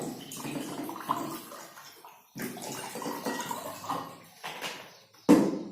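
Water pours into glasses during a simple classroom materials experiment, giving a steady splashing trickle in a couple of separate pours, with a brief clink near the end.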